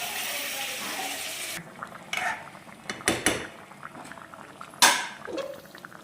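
Water pours with a steady hiss for a second or two into a pot of Godavari-style fish curry, then stops, followed by scattered clinks and taps of utensils against the pot.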